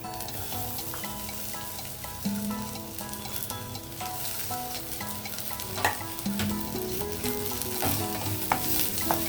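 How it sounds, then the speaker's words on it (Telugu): Onions frying in hot oil in a pan for a flat bean and green pea curry, a steady loud sizzle with occasional scrapes of stirring, close by and continuous with no talking. "ఆయిల్ హీట్ అయింది, నేను ఆనియన్ వేస్తున్నాను"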